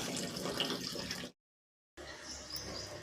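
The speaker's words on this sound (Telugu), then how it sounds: "కాకరకాయలన్నీ వాటర్లో వేసి శుభ్రంగా కడుగుతున్నానండి" Bitter gourds are washed in a basin of water in a home kitchen, with soft running and splashing water that drops out for a moment, then resumes faintly.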